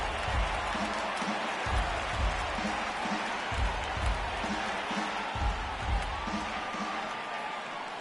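Baseball crowd at a ballpark rises and cheers on a full count, a steady broad roar with rhythmic clapping swells, moderately near, with a faint voice underneath.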